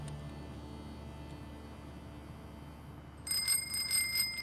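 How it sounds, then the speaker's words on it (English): A bell in the video game DayZ rings near the end as a quick series of bright, repeated metallic dings over a low steady hum. "Do you hear me ringing the bell?"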